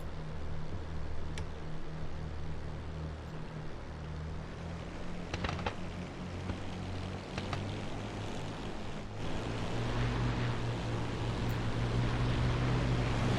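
A WWII propeller aircraft's second engine cranks and catches in the DCS flight game, a steady broad droning roar that swells slightly toward the end, without voices.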